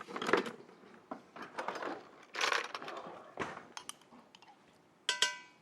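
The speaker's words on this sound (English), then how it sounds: "Dig out a whisk here" Kitchen utensils clatter and clink as someone rummages through a drawer hunting for a whisk, a string of close, uneven metallic rattles and knocks in bursts with short pauses between.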